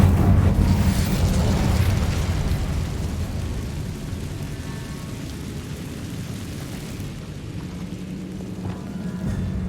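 The Incendio fire spell cast in Hogwarts Legacy: a loud, deep whooshing burst of flame at the start that rumbles and crackles, then gradually fades into a softer roar before a second swell near the end.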